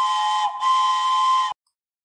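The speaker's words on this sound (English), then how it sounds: "put a whistle blow block behind that" A Lego Powered Up hub plays a steam whistle sound effect: one steady, loud whistle tone lasting about a second and a half, with a brief dip partway through, then silence.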